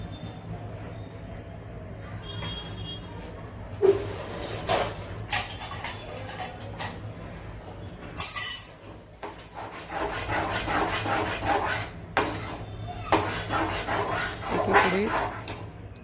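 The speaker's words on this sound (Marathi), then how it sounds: "तीळ अजून थोडेसे गरमच आहेत तरीही त्याचं कूट करू आपण" Warm roasted sesame seeds are ground in a mixer in short on-off bursts, giving loud grinding and rubbing spells separated by quieter gaps.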